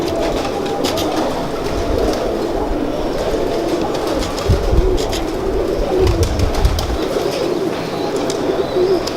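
Pigeons around seven to ten years old coo in low, throaty repeated calls amid steady background rumble, close and continuous throughout.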